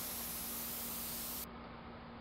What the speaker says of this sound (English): Every time someone sprays one of these aerosol cans